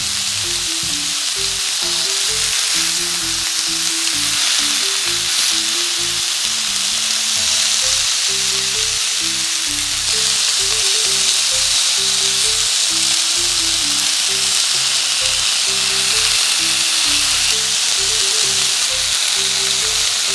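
Avocado rolls wrapped in Seiyu pork sizzle and fry steadily in a pan, a continuous loud crackle with faint clicks of stirring, with no talking.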